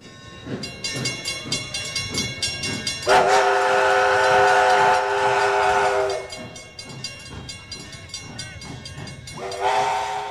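An antique steam engine pulls the Tarantula Train between Grapevine and the Fort Worth Stockyards in Texas, chuffing rhythmically before sounding one long, loud whistle blast and a shorter whistle near the end.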